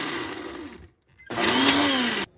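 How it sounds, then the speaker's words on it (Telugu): Mixer grinder blending cheese, skim milk, sugar and a pinch of salt, loud whirring motor in two bursts with a brief pause between, the second run rising in pitch as the blades spin up. "మిక్సీ పట్టుకుందాం."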